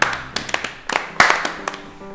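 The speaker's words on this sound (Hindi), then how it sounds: "भाई रजत के लिए तालियां बजाओ," Office staff clapping for Rajat: a small group's uneven, scattered hand claps, close and sharp, coming in short irregular bursts rather than a full ovation.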